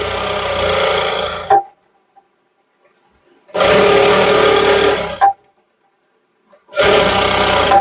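A sewing machine stitches piping onto a suit in two long bursts of steady whirring, each about one and a half seconds, separated by short silences, with a third burst starting at the end; close and loud, with no talk.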